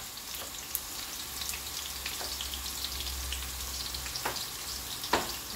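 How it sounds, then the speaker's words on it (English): Garlic frying in oil in a home kitchen pan, cooking for ackee and saltfish: a steady soft sizzle runs throughout, with occasional sharper pops and crackles, close and moderately loud, no talking. "So this is the garlic in the oil. Make it slightly brown"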